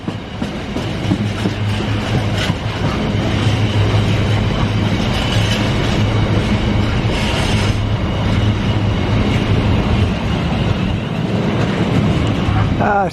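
Eight-carriage passenger train passing close by at the Rugeley area, a loud continuous rumble with rhythmic clickety-clack of wheels over rail joints and a steady droning hum, with a voice heard faintly beneath.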